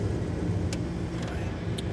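The supercharged 5.4-liter Ford SVT V8 of a 2011 Shelby GT500 Super Snake, fitted with a 3.4-liter blower and new cams, idles with a low, steady rumble close by.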